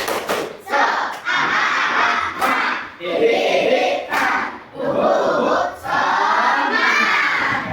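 A class of primary schoolchildren performs a rhythmic clap chant in a classroom, loud chanting in bursts punctuated by sharp group claps, with short pauses between phrases.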